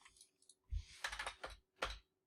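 Close, crisp taps of computer keyboard keys and mouse clicks come in short irregular bursts with quiet gaps, no voice present.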